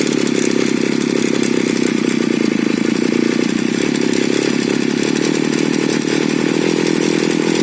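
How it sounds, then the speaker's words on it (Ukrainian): A gas brush cutter engine runs at high revs while its carburetor L screw is adjusted, producing a loud, steady buzzing drone up close with a slight waver in pitch throughout. "крутимо винт L до того моменту, поки коса почне набирати оберти"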